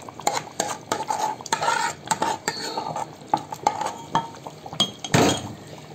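Fried masala is stirred into chicken changezi, a busy run of metal spoon scrapes and clinks against the pot over a light sizzle, with a heavier clatter near the end.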